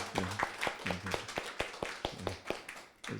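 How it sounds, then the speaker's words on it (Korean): A church congregation at a Sunday service claps in encouragement, a fairly faint patter of hands with a loose, uneven rhythm, mixed with murmuring voices. "여러분 한번 격려의 박수, 수고 많다고 격려의 박수 이렇게 해주면 어때요?"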